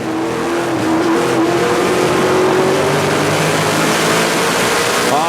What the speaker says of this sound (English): You can really hear Ronnie Beauchamp feathering that throttle up off the corner, using the throttle to turn the car